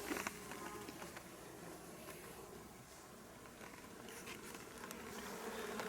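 Strong honeybee colonies buzzing at hives being readied for winter, a dense steady hum of many bees with scattered faint ticks and knocks, moderately quiet and sustained.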